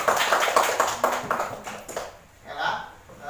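A class claps together in a short uneven burst of hand claps that fades within two seconds, mixed with children's chatter and then quieter talk.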